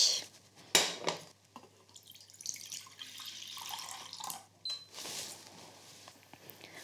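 Boiled potatoes being drained, water pouring and splashing into a sink in uneven bursts with a few clinks of a pot, close and fairly loud, no talk.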